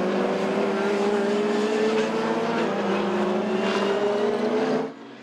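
Race cars roaring past on the Jules Tacquenier circuit at Mettet, a loud sustained engine note with layered revving from several cars, steady throughout before dropping off sharply at the end.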